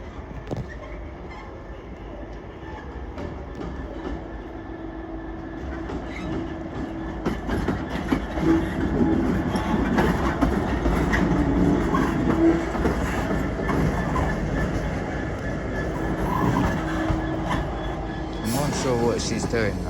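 A train moves through Crewe station on the West Coast Main Line, with rumbling wheels and rhythmic clickety-clack over the rails that grows louder midway, and a brief squeal near the end, while a person talks nearby.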